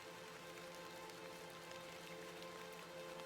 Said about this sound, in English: A bit of rain won't kill me